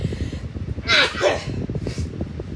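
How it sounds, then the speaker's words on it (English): A single loud sneeze bursts out close by, with a quick breathy follow-through against quiet background noise. "I take nasal spray and I sneeze several times"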